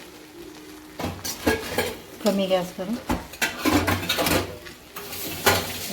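Poha is stirred and tossed through a spiced tempering in a pan, with a spoon scraping and clattering against the metal in bursts while someone speaks over it.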